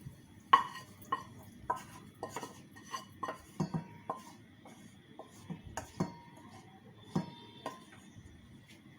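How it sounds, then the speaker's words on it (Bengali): Cooked prawns in a curd and coconut gravy are tipped out of a pan, with a series of close metallic clinks and scrapes of utensil against cookware, spaced irregularly with quiet between them. "এবার আমি মাছটা ঢেলে নিচ্ছি"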